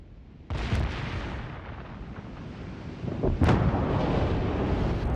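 Naval artillery salvos in World of Warships: Legends, two loud booming blasts with long rumbling tails, the second heavier, under a continuous low roar with no talk.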